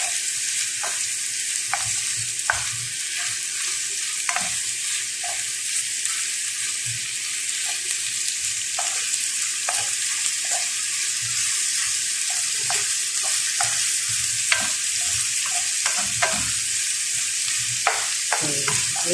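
Spicy shawarma filling fries in a pan, a dense, constant sizzle with frequent clacking strokes of a spatula stirring it, close and loud throughout with no talking.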